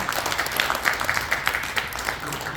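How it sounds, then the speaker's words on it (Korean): A crowd at a civic forum on tourism and the economy in Busan applauds briefly, a moderate patter of many hands that stays fairly even and carries some room echo. "큰 박수 부탁드리겠습니다"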